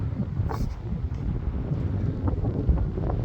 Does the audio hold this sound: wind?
yes